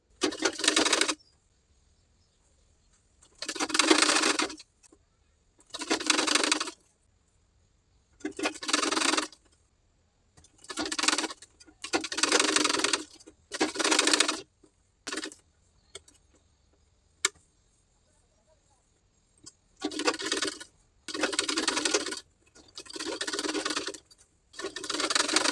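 A sewing machine stitches piping onto blouse sleeves in repeated bursts of fast, loud whirring, each running a second or two and separated by quiet pauses with small handling clicks.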